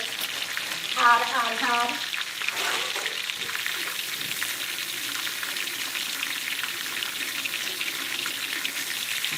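Fish frying in a pan for stew fish, with a steady close sizzle running throughout and a little stirring near the start; a voice speaks briefly.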